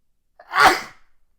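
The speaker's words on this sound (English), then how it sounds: "I got a sneeze coming." One sharp, close sneeze bursts out after a quick inhale, loud and brief, then fades to silence.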